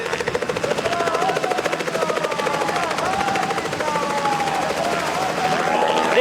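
Helicopter at an election rally, its rotor chop throbbing loud and steady throughout with a rising whine near the end, under crowd noise.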